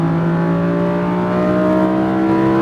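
A Lamborghini Huracan engine drones loud and steady from close by as the car accelerates, its tone holding a smooth sustained pitch with no talk.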